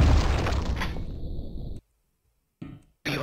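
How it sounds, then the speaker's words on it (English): A grenade blast in Warhammer 40k Fire Warrior: a loud, broad burst with a rumbling tail that cuts to silence, followed by short bursts of game sound. "Throw a grenade, bugger it."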